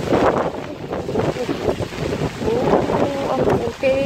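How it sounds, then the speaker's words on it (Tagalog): Strong gusting wind roars and buffets the microphone steadily on an outdoor rural road, a loud, continuous rumbling rush with brief surges and no clear voices. "Ang lakas ng hangin."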